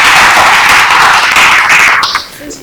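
An audience gives loud, dense applause to welcome a contestant during a competition round, and the clapping tapers off sharply near the end.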